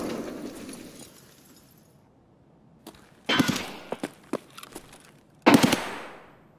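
Gunfire in the video game Escape From Tarkov: a burst of automatic fire, then a few sharp single shots and another loud burst that fades with an echoing tail, all fairly close, with no talking.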